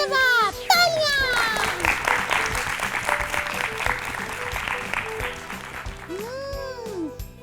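An audience at a children's learning show applauds a correct answer, a burst of clapping from many hands running under children's voices and chatter, with cartoonish whistling sound effects at the start and near the end.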